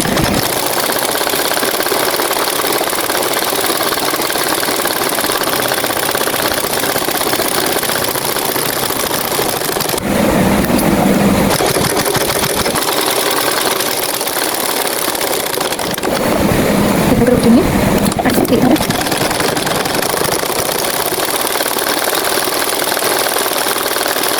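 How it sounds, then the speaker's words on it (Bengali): An electric sewing machine runs steadily, stitching a double seam on trousers or salwar fabric. It gives a continuous loud motor whir and rapid needle clatter, with brief changes in tone as the fabric is repositioned. "ডাবল সেলাই দিয়ে নিতে হবে, তো উল্টিয়ে আবার এইভাবে করে আরেকটা সেলাই দিয়ে নেব।"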